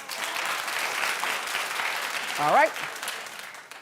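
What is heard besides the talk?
studio audience clapping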